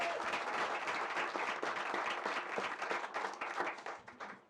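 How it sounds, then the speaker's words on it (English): A crowd at the 2022 Gaithersburg Book Festival applauds with a dense patter of many hands. The clapping is moderately distant, holds for a few seconds, then thins and fades. "Give him a round of applause for that."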